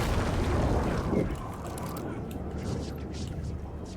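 A flashbang grenade goes off in the video game Alan Wake II, a loud broadband burst at the start that holds for about a second, then drops to a lower rumbling tail with faint game noise.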